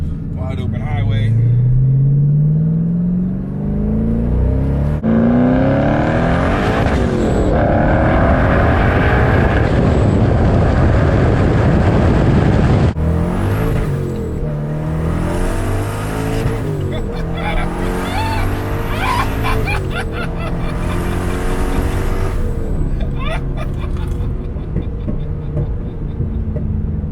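A twin-turbo Corvette Z06 accelerates hard on an open highway, its loud engine roaring through rising gear pulls with a sharp shift break, continuous and close under occasional speech from the driver.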